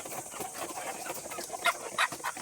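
Desi hens and roosters cluck faintly in a farm pen, scattered soft calls with a couple of sharper clucks standing out over a busy background.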